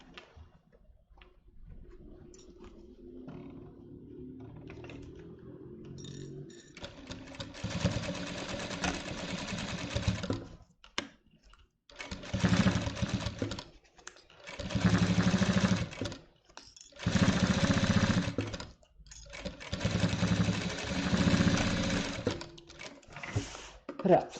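A domestic sewing machine stitches along the edge of a blanket, its steady mechanical whir running in repeated bursts with short pauses, after a quieter stretch of handling and faint background noise.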